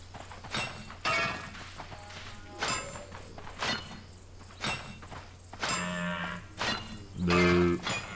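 A cow moos in the Albion Online video game, a low sustained moo rising near the end over scattered clopping and clinking game sounds, with no talk.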